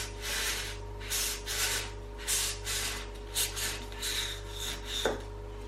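A blade saws back and forth through a polystyrene ball, cutting it in half, in a steady series of rough, scratchy strokes, close and clear, with a low hum beneath and no talking.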